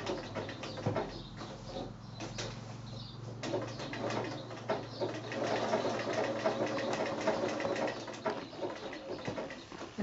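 A domestic sewing machine blanket-stitching applique on a quilt, a steady whirring motor with a fast rhythmic needle patter that runs continuously, close and moderately loud with no talking.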